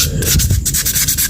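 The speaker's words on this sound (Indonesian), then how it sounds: "jadi kita amplas menggunakan air rinso ya, seperti ini ya, sampai dia hilang karatnya, sampai dia licin ya" A rusty brake part is wet-sanded by hand with sandpaper and detergent water, giving quick repeated rubbing strokes, loud and close, with no voices.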